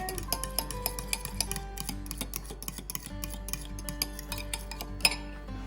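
A spoon clinks rhythmically against a bowl while olive oil is mixed with sour cream, regular light taps close by over faint background music.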